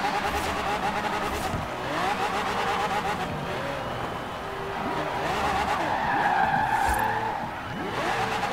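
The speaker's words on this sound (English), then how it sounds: "Let's see how well we drift." A 1965 Mustang GT drifting with its tires skidding and squealing almost without a break, the engine droning steadily beneath, loud and close throughout.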